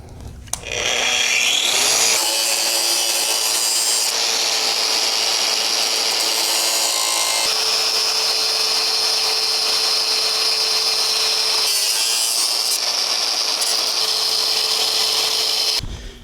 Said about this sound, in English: I got my grinder here with a cutoff wheel